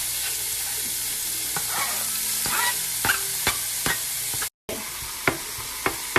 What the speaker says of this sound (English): Right now, I'm just letting this brown.